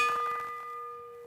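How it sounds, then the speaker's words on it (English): A single bell rings out at a Madison track cycling race, a clear metallic strike with a sustained ringing tone that decays slowly over a faint background of arena noise. "We're going to hear the bell on the next lap"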